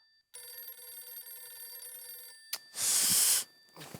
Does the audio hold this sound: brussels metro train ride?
no